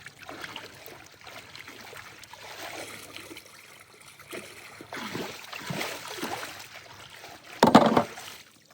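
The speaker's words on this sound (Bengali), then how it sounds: "তো দুটো একসঙ্গে মেশানোর পরে আবার একবার ভালো করে নেড়ে নেওয়া হচ্ছে" Water and soil being stirred together in a pond bed, giving a soft, sloshing trickle that rises and falls in waves, with a brief louder splash near the end.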